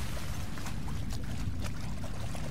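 Steady watery wash with faint trickling in The Last of Us Left Behind, a continuous low rushing bed of game water at moderate level with no voices.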